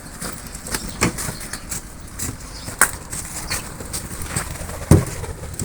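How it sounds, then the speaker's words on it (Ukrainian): Irregular soft wing flaps from migratory birds in flight, a few sharper beats standing out over a steady outdoor background. "Перельотні птиці."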